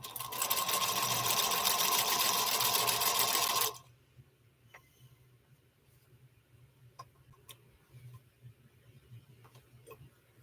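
A sewing machine runs steadily while stitching a quilt seam, a loud continuous whir for a few seconds that stops abruptly, followed by faint handling clicks and quiet room noise.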